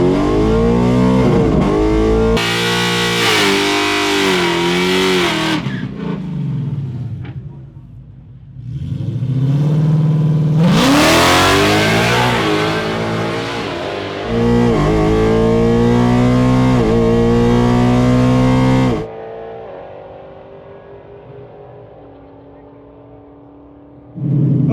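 A 2024 Silver Bullet drag car at a Mod Nationals drag race roars close and loud, its engine climbing in rising bursts, dropping briefly, then surging hard on launch before cutting off and fading to quiet.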